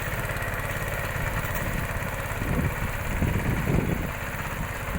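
A Massey Ferguson 5118 mini tractor engine idles steadily up close in a ploughed field, a continuous low rumble with slight swells in loudness and no talking over it.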